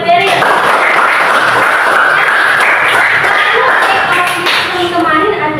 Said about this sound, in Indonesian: Tepuk tangan dulu buat Berry.